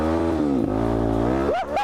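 A Suzuki DRZ motorcycle engine revving hard after a carburetor cleaning, spark plug change and carb adjustment, a loud close steady roar that rises and falls in pitch through quick throttle blips.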